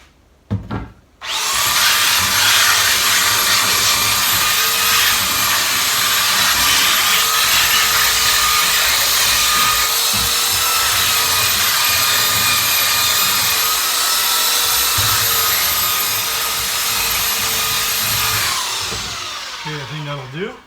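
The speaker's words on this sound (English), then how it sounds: "Do a little bit more sanding." A power sander works a wooden cabin door replacement after bear damage, running in a loud, steady high whine for nearly twenty seconds, starting after a couple of knocks and winding down at the end.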